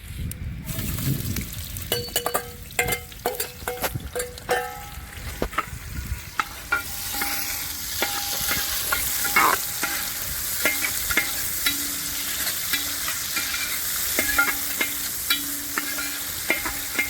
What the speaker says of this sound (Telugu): ఆయిల్ అయితే హీట్ అయింది. ఆనియన్ వేసాను.